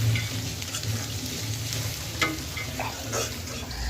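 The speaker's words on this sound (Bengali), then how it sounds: "এই যে দেখো, আলু আর চিংড়ি মাছ ভাজতেছে" Potatoes and shrimp frying in a pan, a dense crackling sizzle heard up close, with a few stirring knocks over a low background hum.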